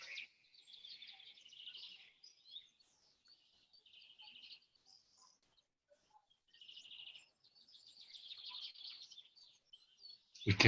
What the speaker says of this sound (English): We can hear all the birds in the background there, Klaus.